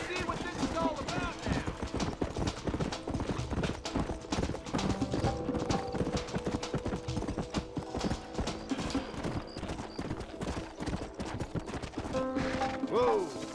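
Several horses clip-clopping in the Red Dead video game, a dense continuous patter of hooves with occasional whinnies and mechanical rattles, kept up at a steady pace under intermittent speech.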